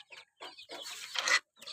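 Chickens on a small hobby farm give a few short clucks and chirpy calls in quick bursts, fairly faint and close by, with quiet gaps between them.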